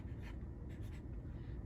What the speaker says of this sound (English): you get a little piece of paper and you write down a math problem